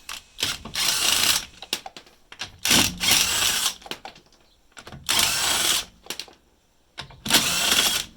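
A ratcheting wrench loosens the wheel fasteners on a jacked-up Toyota Corolla Verso during a rear stabilizer link replacement, giving repeated loud bursts of clicking that are separated by short quiet pauses and have no talk over them.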